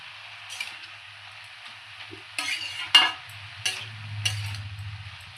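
Cabbage cooking in oil with salt, turmeric and sugar, quiet gentle sizzling broken by several spatula scrapes and stirs in a pan.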